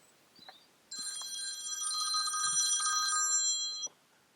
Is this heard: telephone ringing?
yes